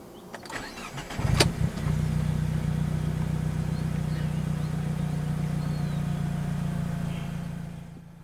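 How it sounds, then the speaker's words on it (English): A 2010 Alfa Romeo 159 2.2 JTS TI starts up with a short starter whir and a catch, then settles into a steady, low, even idle heard close and alone. "Put your foot on the brake and press the start button located to the right of the head unit."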